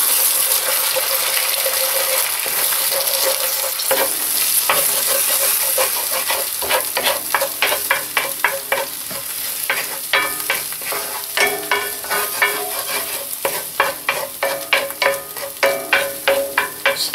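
Garlic rice with egg being stirred and fried in a pan, a continuous bright sizzle at first, then rhythmic scraping strokes of a spatula grow louder and more regular toward the end, no voices.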